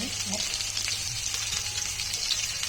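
Pomfret fish coated in semolina and rice flour frying in oil, a steady close hiss and crackle of sizzling, with a faint voice-like murmur in the background.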